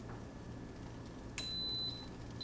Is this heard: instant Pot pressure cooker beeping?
yes